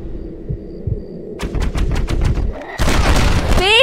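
Gunfire in the video game Red Dead Redemption, a rapid run of sharp shots followed by a loud dense burst of firing, over low game ambience.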